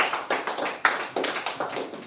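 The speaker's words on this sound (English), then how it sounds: "Clap it up for him, Mr. John Frick." A small audience at a Toronto stand-up comedy club claps for comedian John Frick: a sparse, brisk patter of hand claps in uneven bursts, moderately close, with no talking.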